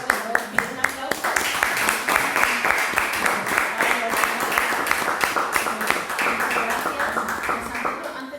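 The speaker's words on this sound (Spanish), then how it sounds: "Un aplauso." Lecture audience applauds, starting with a few sharp individual claps that quickly swell into sustained, close clapping from many hands, continuing steadily to the end.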